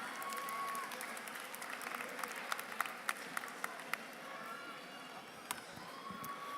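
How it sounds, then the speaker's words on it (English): Large audience at a spring university commencement applauding graduates, a sustained wash of clapping with a few sharper claps and whoops standing out, heard from a distance in a big hall. "Let's applaud our College of Humanities, Arts, Social Sciences,"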